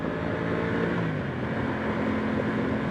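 An Aprilia Tuono 660 Factory motorcycle cruising at speed, a steady droning engine note mixed with heavy wind rush, loud and constant with no pauses.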